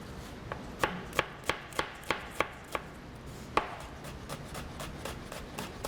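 A knife chops a shallot on a cutting board in a quick run of sharp, evenly spaced knocks, then a short pause and a second steadier series of close, crisp strikes.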